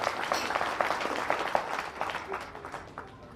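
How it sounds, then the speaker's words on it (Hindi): Audience at a team-building business seminar in India claps, a short dense burst of applause that gradually tapers off over a few seconds. "एक बार ताली बजा दीजिए उनकी।"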